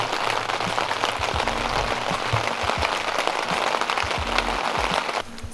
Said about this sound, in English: Pretty sure it's only started raining harder.